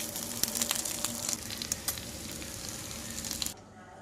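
Curry leaves crackle and sizzle in hot oil for a Kerala-style squid fry, with dense continuous popping and sharp spits close up. The sizzle cuts off abruptly near the end.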